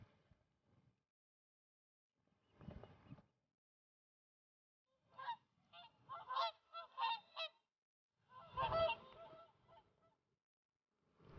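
Whooper swans newly arrived from their Icelandic breeding grounds give bugling, honking calls in a few scattered bursts, one short call early and then a run of overlapping calls later, moderately close against a quiet background.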